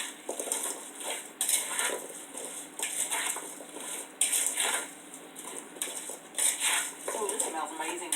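A spoon stirs herb potatoes in a pot, with repeated scraping clinks of metal against the pot in uneven bursts, close by and fairly quiet.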